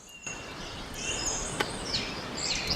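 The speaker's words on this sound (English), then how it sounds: "Can you guys hear the birds in the background?" Faint birdsong outdoors, with a few high chirps and trills scattered over a soft, steady background hum.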